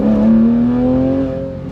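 A 4.3-litre Porsche 997.1 Carrera pulls in first gear on a test drive, its engine a loud, close, smooth drone whose pitch climbs gently as it accelerates, then eases slightly near the end.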